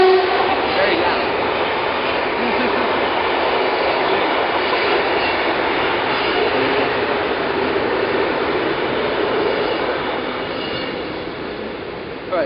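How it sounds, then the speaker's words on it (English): A train rumbles past close by, loud and steady for the whole stretch with a broad roaring wash of noise that eases slightly near the end. "There's a train. It's very loud."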